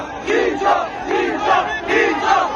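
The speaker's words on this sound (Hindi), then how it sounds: "आप यहाँ अवाम की एक बड़ी तादाद भी देख सकते हैं जो टी चौक का नारा लगा रही है" A large crowd of people surrounding a car at D Chowk chants political slogans in loud, rhythmic waves, several repeated calls rising and falling together, close and dense.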